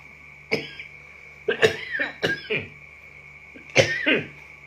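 Several sharp coughs, a single one followed by quick clusters of two or three, close by against a quiet room hum.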